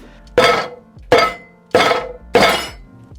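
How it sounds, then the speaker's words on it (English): Four heavy, evenly spaced chops of a Chinese cleaver through chicken on a cutting board, each a sharp loud thunk with a brief ring, no talking. "now it's time to start actually chopping this up"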